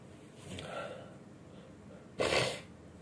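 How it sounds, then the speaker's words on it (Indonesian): A suppressed sneeze that never fully comes: a soft breathy build-up of sniffs, then a short sharp burst of air near the end, fairly quiet over low room noise. "mau wahing kok nggak jadi"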